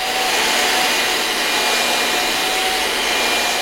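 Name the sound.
vacuum cleaner running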